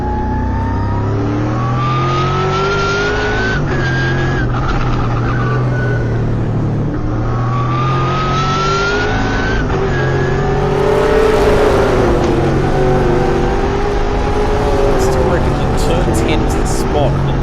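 TA2 race cars at Morgan Park circuit during a four-car battle for the lead, engines rising in pitch through repeated gear changes, loud and sustained, with a commentator talking over the roar.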